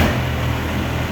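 A 1993 Cummins diesel truck engine cranking over, a steady loud low mechanical churn held throughout one short continuous stretch, close up with no voices.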